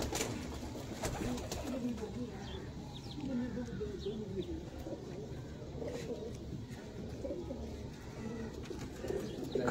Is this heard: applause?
no